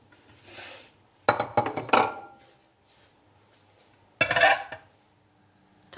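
Metal clanks and clatters as a pot is set down, followed after a pause by another short rattling clank like a lid closing.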